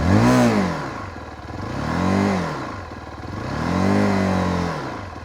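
A Zontes GK350 motorcycle engine is revved up to around 5,000–6,000 rpm three times. Each rise swells and falls back, close and loud, with no talk.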